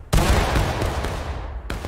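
A musket volley from War of Rights erupts as one loud, simultaneous crash of many shots that rolls into a long ragged rumble, then a second sharp report near the end.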